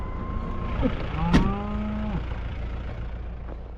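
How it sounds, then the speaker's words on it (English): Cattle moo outdoors on a Kansas ranch, one long drawn-out low call with an overlapping second moo, then quiet open-air background. "Look at these cows."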